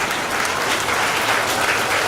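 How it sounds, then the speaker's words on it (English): Steady crowd applause at a school science expo prize ceremony for class winners, even and continuous throughout. "They deserve a round sound of applause."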